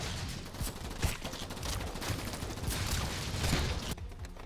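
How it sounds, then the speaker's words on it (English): An orbital gun fires continuously in the base defense game Idun, a dense, sustained barrage of rapid impacts and rumbling blasts that stays loud before cutting off near the end. "These boomers really take a lot of damage, at least from the orbital gun."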